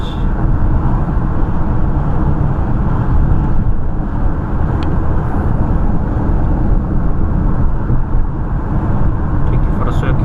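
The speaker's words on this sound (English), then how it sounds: "Let's hear this engine roar, guys. I love the turbo noises." A Mercedes-Benz GLB petrol hybrid, 161 hp, on the move, giving a steady loud engine and road drone with broadband wind and tyre noise that barely changes throughout.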